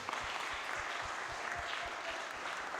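A church congregation applauding in rhythmic unison, steady clapping filling the room for a few seconds without speech.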